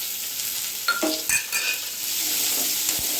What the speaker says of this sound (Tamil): லைட்டாக வதக்கினா போதுங்க வெங்காயம்.